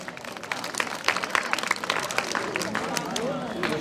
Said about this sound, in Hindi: श्री देशराज ठाकुर जी जोरदार तालियों से स्वागत करें।